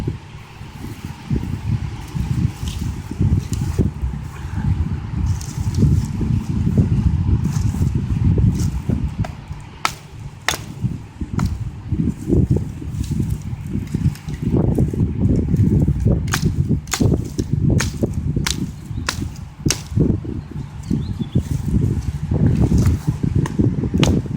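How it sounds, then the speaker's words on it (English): A Schrade SCAXE5 axe, its blade profiled narrower, delimbs a small branch with a long series of sharp, close chopping strikes at an irregular pace, ringing over woody cracking and rustle. "I'm gonna go ahead and delimb this small branch here"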